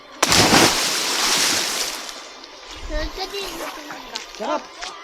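A heavy splash of water bursts near the start as a person jumps into the Tubili River in Paluan, Occidental Mindoro, followed by excited voices and shouting over rushing water.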